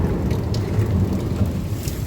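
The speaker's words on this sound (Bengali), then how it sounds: "মেঘ ডাকছে দেখেছ কেমন" Steady rain pours with a low, rolling thunder rumble underneath, continuous and fairly loud throughout.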